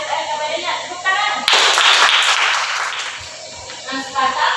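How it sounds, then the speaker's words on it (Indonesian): Students in a classroom clap for a small group that just presented, a sudden loud burst of close hand clapping that fades over a few seconds, with voices and classroom noise before and after. "Kita beri tepuk tangan untuk kelompok 2 yang sudah berani mempresentasikan hasil LKPT-nya."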